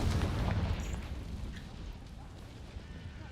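In the Hogwarts Legacy video game, a Confringo fire spell explodes with a heavy, booming blast at the start that rumbles and slowly fades over a few seconds.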